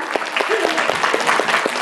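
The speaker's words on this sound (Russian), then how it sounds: "Аплодисменты ей отдельные, да." An audience at a festival evening applauds continuously for a short stretch, dense steady clapping from a crowd close to the microphone, with a voice briefly audible over it.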